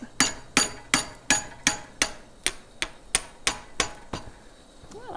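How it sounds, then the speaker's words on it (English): Steady hammer blows on a chisel shearing the top half off a metal swage block clamped in a vise, about a dozen sharp ringing metallic strikes at an even rhythm, close and loud with no talk. "I'm going to shear off the top half by cutting in the same groove on the line with the chisel"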